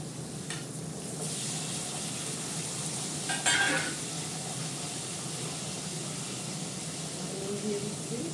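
Potatoes dropped into hot oil seasoned with asafoetida set off a steady, close sizzle with a brief louder burst as they go in, frying continuously under a quiet voice.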